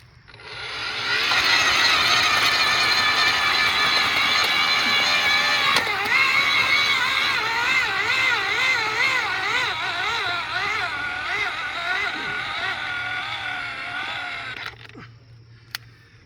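A RIDGID earth auger runs on its high speed setting with a loud, sustained motor whine whose pitch wavers as the bit spins and digs, then cuts off near the end.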